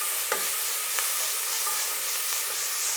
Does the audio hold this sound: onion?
yes